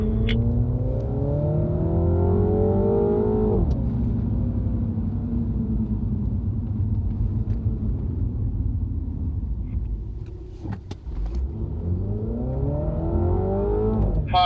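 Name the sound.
MINI John Cooper Works car accelerating on race track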